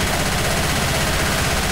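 Gunfire in the video game Left 4 Dead 2, a dense, loud, continuous stream of rapid shots filling the whole moment with no pauses and no talking.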